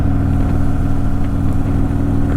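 A Harley-Davidson Softail Sport Glide with a Stage II upgrade runs with a loud, steady, close engine rumble. A low, pulsing V-twin throb continues with no break and no talk over it.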